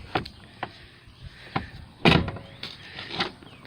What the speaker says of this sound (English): The door sound is great.